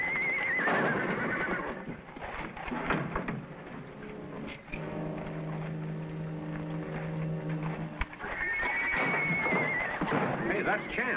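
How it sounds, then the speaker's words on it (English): A horse neighs loudly at the start and again near the end, with hoofbeats clip-clopping under a long stretch where a steady tonal hum holds, all set in an old Western adventure. "That must be the kid's horse."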